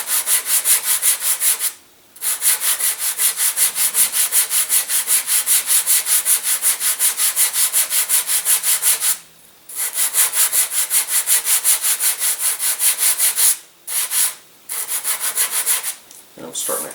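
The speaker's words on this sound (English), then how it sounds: "I'm just paper sanding this down, trying to get it fairly thin at the back" Sandpaper rubbing back and forth across the thin wood of an elastic-launched free-flight glider, a loud, close, rhythmic rasping in long steady runs broken by a few short pauses.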